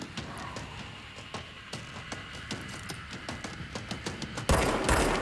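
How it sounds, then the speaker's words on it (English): Rapid gunfire in the video game Control, a fast rhythmic stream of shots at close range that ends in a louder, denser burst. "It's easier for me to shoot him over there."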